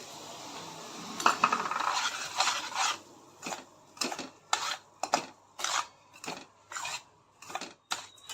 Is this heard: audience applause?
no